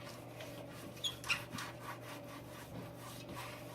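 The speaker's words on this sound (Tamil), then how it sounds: "இப்போ இந்த பிளேட்டில் எண்ணெயை ஊற்றிட்டு இந்த மாதிரி கிரீஸ் பண்ணிக்கோங்க ஃபுல்லாக." Oil is spread and rubbed across a pizza baking plate, giving soft, continuous scraping and rubbing strokes with a couple of brief louder scuffs, close up and with no one speaking.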